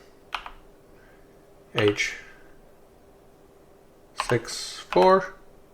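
Short bursts of clacking keys come from typing a Corsair RAM model number into a compatibility search on a computer keyboard, in separate clusters of quick taps, close and clear, with brief speech mixed in between.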